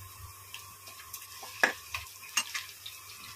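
Green chilies are added to onions frying for palak paneer, giving a faint sizzle under a low hum, with a few sharp clicks and scrapes of a spoon stirring the pan.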